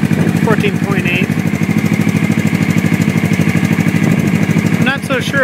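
A motorcycle engine idles steadily at a raised speed after a rectifier replacement, a close, even mechanical putter that runs throughout while a voice talks over it.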